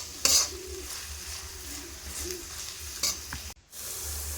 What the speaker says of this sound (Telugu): అవి కూడా వేసేసుకొని ఉల్లిపాయలు బ్రౌన్ కలర్ వచ్చేంత వరకు ఖచ్చితంగా ఫ్రై చేసుకోవాలి